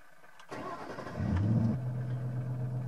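A Ford Mustang V8 fitted with electric exhaust cutout valves cranks and fires up nearby, surging briefly in a throaty rev before settling into a steady low idle rumble.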